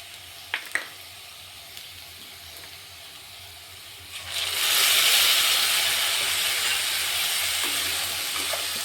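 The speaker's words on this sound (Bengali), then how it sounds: "এবার আমি মশলাটা দিয়ে দেব" Spice paste for a vegetarian coconut curry hits hot oil after green chillies are fried, bursting into a loud, steady sizzle partway through after a quieter start with a few clinks, then held close and stirred continuously.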